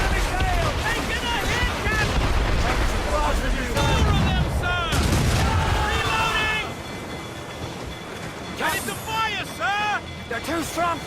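Enemy ships fire cannons in a naval battle in the video game Assassin's Creed Rogue, heavy booming blasts under shouting crew voices and excited talk.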